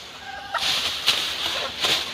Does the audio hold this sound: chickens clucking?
yes